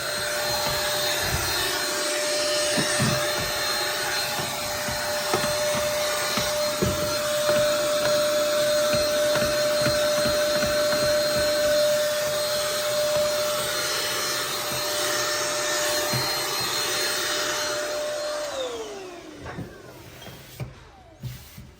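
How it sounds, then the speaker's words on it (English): A vacuum cleaner runs steadily for a long stretch with a constant whine, rubbing and bumping as it cleans inside a cabinet, then winds down at the end. "I'm gonna use the vacuum to clean it"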